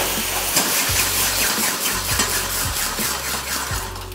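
White Chardonnay wine hitting a hot pan makes a strong, continuous sizzle with soft rhythmic scraping or stirring, close and steady.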